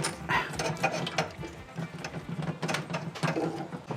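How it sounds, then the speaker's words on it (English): A small ratcheting wrench works on bolts on a Ford Fiesta ST during a crash bar install, making quick, close clicking runs in uneven bursts with a faint metallic rattle. "Your top and bottom, if you just have a little ratcheting wrench, will do great."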